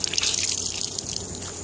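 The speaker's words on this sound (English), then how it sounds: "as you can see, the water's washing clear" Water runs steadily in a sink during a wash, rinsing until it flows clear, giving a close, continuous splashing trickle with fine dripping detail and no talk.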